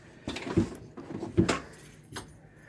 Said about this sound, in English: You opened the door.